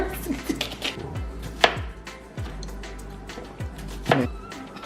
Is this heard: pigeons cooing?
no